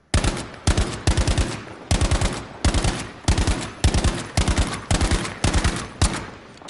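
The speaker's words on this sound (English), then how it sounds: "I'm using the STG-44. Just want to get a couple of shots in." Bursts of STG-44 assault rifle fire in Battlefield 5, a dozen loud, evenly spaced volleys of rapid automatic shots with brief pauses between them, close and dominant with no talk.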